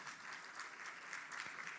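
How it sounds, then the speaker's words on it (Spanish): Audience applause at a construction and engineering congress in Lima, a soft, even patter of many hands clapping, faint and distant throughout. "Se trata de Ricardo Gandolfo Cortés, a quien le damos un fuerte aplauso a él"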